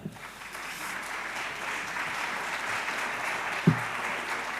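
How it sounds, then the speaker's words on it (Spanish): Steady applause from a crowd fills the room, moderately loud and continuous, with one brief thump near the end. "Un aplauso fuerte para ella"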